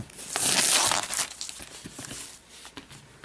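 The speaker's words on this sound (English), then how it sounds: "All right, so just cut the plastic." Plastic wrap on a 2013 Apple MacBook Air box is cut and torn, a brief close crinkling rip followed by softer rustling and handling noises.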